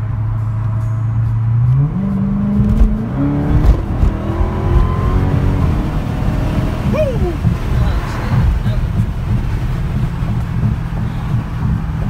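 A Dodge Charger Hellcat accelerates hard from inside the car, its engine note climbing in steady stepped pitch as it revs up through the gears, with loud road and wind roar throughout.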